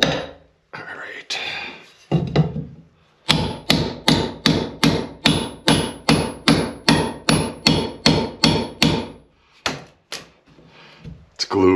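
A hammer pounds on the wooden wall of a tiny barn being torn apart, a close, loud run of about twenty evenly spaced hard knocks, with a few scattered blows before and after.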